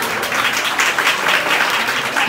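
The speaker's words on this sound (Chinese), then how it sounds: "大家掌声鼓励好吗？" Audience applause fills a singing contest held at a university campus in Matsu, Taiwan, a dense, steady roar of clapping from start to finish with no voices over it.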